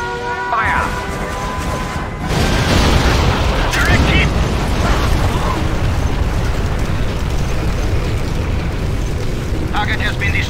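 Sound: bombing explosion in C&C Generals video game

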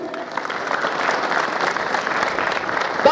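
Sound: audience applause for graduating students

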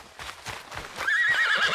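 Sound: horse whinnying, video game Red Dead Redemption 2

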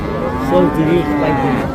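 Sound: Friesian cross calf mooing at cattle market

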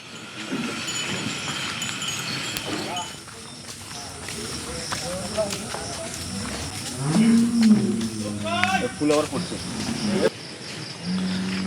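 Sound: cattle mooing while being loaded onto a truck

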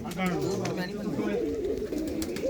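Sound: pigeons cooing

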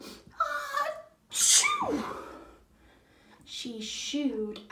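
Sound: storyteller imitating a sneeze

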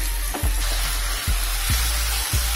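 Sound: onion paste frying in a pan

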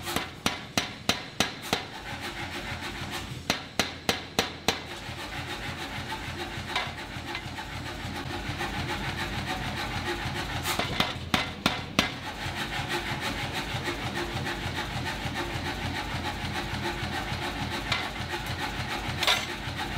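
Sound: power hammer forging heated Inconel

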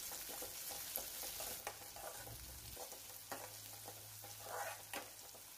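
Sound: onions sizzling as they fry in a pan

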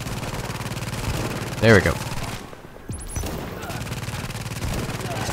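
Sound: gunfire in the video game The Division

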